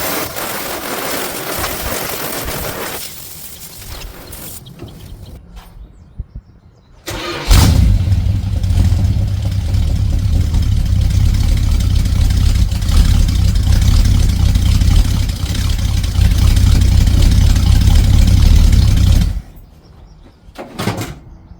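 A General Lee car engine starts and settles into a loud, steady idle that runs close by for about twelve seconds before cutting off, with quieter door and rustling sounds before and after.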